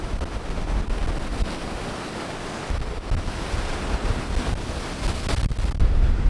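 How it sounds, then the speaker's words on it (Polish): Sea waves crash hard against a breakwater at Darłowo on the Polish Baltic coast, a continuous loud surf roar with surging swells and gusts of wind buffeting the microphone. "te fale naprawdę bardzo mocno rozbijają się o ten cały falochron"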